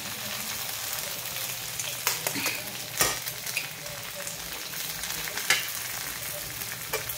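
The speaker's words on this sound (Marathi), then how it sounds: "मस्तपैकी आता असे मी सगळे अंडे आता हे असे फोडून टाकते." Eggs going into a hot pan for egg bhurji, four or five eggs cracked in one after another, with a steady frying sizzle throughout and a few sharp taps and cracks standing out above it.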